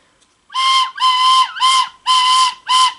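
An origami paper whistle blown in five short, shrill bursts, each a steady bright tone with airy edges, close and loud with brief silent gaps between them.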